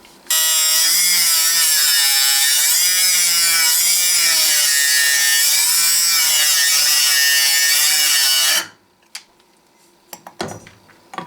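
A Harbor Freight angle grinder cuts off the shank of a drill bit with a loud, steady, high-pitched whine that wavers slightly, runs about eight seconds, then stops abruptly, leaving faint clicks and handling noises.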